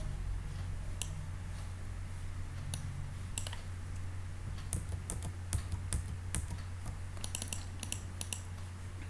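Keys on a computer keyboard are typed and tapped, including arrow keys, while a card is laid out in a word processor. The clicks come in scattered clusters over a steady low hum, close and moderately quiet.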